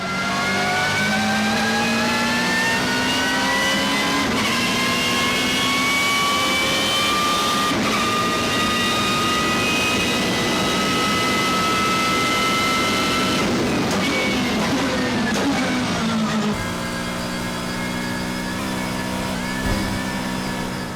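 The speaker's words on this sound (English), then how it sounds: "You can hear the straight cut gears at 5th or higher" BMW M3 GTR engine in the Need for Speed Heat racing game, a sustained high rev with straight-cut gear whine rising through the gears, loud and continuous with brief shift dips, no talking.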